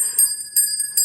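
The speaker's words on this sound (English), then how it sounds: "The school bell's ringing." A school bell rings out in three quick, bright strikes about four tenths of a second apart. Each strike leaves a steady high tone, and there is no talking.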